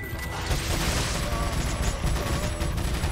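Dense, loud gunfire in the Resident Evil 4 video game, a rapid stream of shots blending into a continuous roar, mixed with game effects and background sounds.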